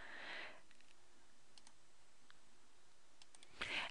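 Several faint, sparse computer mouse clicks in a quiet room, with soft breathy noise bursts at the start and end.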